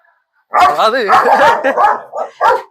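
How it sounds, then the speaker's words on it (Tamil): A large dog at a zoo gives a run of loud, close barks and yelping whines in quick succession, starting after a brief silence. "காய்ஸ் இங்க பாருங்க"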